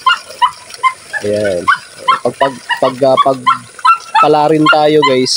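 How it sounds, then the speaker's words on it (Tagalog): Dog barking repeatedly at close range, loud bursts in irregular runs with some higher yips, mixed with someone talking between and over the barks. "Pasensya na kayo sa aso ko guys, sa sobrang ingay talaga kasi ngayon lang ako nakabalik dito."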